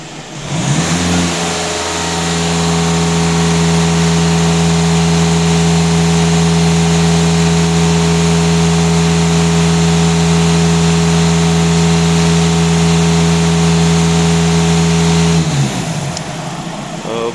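A VW Passat B8 engine, with its cooling system not working, runs at a steady idle for about fourteen seconds, loud and close, with an even drone that starts and stops abruptly at the ends.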